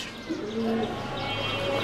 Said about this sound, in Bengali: এই কবুতরই আমার ডাকতেছে